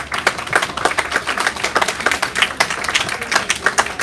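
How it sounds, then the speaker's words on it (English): A round of applause from an audience at a home care event, dense steady clapping from many hands filling the whole stretch at an even, moderately loud level with no speech over it. "give Lisa a round of applause."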